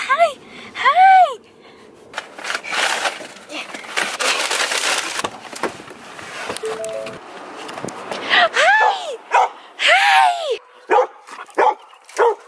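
Dogs greet people arriving home at a travel trailer with excited yips, barks and high whimpers in bursts, close and loud, while people talk and laugh between them.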